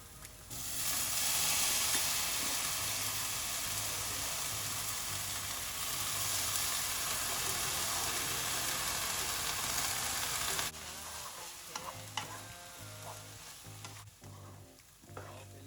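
Egg and noodles frying with vegetables in a pan, a steady close sizzle with stirring and scraping, loud at first and then quieter and more broken with clinks of the utensil.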